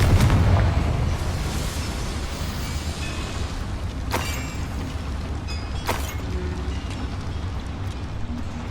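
A Confringo blasting spell goes off in the video game Hogwarts Legacy inside a mine, with an opening booming explosion fading into a rumbling ambience, then two sharp cracking bursts later on, no talking.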